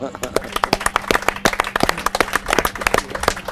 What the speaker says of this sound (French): je souhaite qu'on les applaudisse très fort.